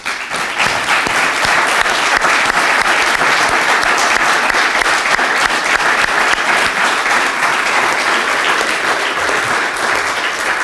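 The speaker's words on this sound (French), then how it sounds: "Et Raphaël, je veux que cette salle, s'il vous plaît, t'applaudisse toi et ton action." An audience in a ceremony hall claps in a dense, continuous burst for about ten seconds, loud and sustained, with no voices rising above it.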